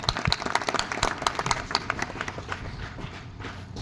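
A satsang crowd at a Mehta Rajput community programme breaks into dense, sustained clapping that stays fairly even, then eases slightly toward the end.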